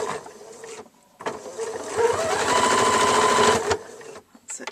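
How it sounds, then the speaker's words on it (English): Sewing machine stitching ribbon onto a sundress made from a pillowcase, running in a loud steady whirring burst of about two and a half seconds after a brief start and pause, close up with no talk. "Just machining the ribbon onto the dresses."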